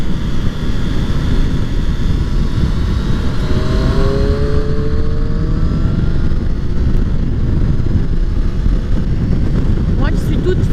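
A Triumph Street Triple 660s motorcycle on the move, with a steady, loud engine drone and rushing wind that stay constant throughout.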